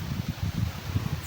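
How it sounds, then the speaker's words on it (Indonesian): A gentle breeze blows through leaves beside green rice paddies in a countryside village, heard as soft, gusty rustling with low wind buffeting pulsing close to the microphone. "Apalagi nih disertai dengan angin sepoi-sepoi."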